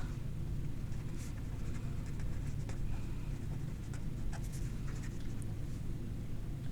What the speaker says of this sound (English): let's go ahead and write down some kind of response here